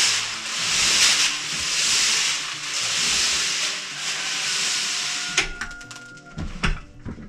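A drum mixer turning and tumbling seed, a continuous rough hissing rush with gentle swells for about five seconds, then breaking into scattered clunks and rattles as it slows, close by.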